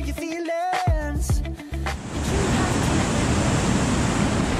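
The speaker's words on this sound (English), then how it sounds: "The water here just falls down perfectly." Water pours steadily down a waterfall at a campsite in Switzerland, heard as a dense, even rush that starts partway in and continues loudly. Before it begins, a voice is speaking over a tonal background.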